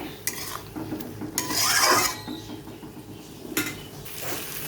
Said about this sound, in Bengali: মশলা হলুদ সব একসাথে দিয়ে দিলাম দিয়ে মশলাটা ভালো করে কষিয়ে নেব